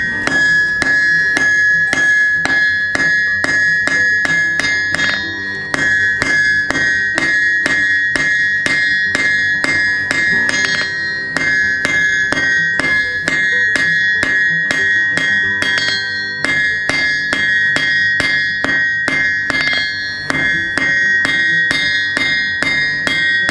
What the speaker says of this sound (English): I'm going to match that angle with my hammer.